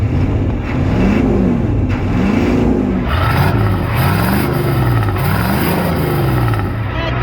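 A Ford 6.9 or 7.3 IDI diesel pickup engine revs repeatedly up and down in rising and falling swells, loud and close, with a rough diesel clatter underneath.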